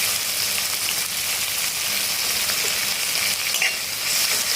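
Thinly sliced large onion frying in hot oil, a steady, close, loud sizzle with faint stirring scrapes running throughout, no talking.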